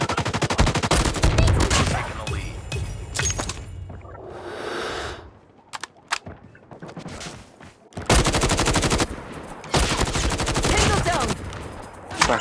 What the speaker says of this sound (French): Putain, je carrément tire à l'aveugle dans le combat.